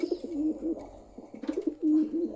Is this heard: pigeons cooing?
yes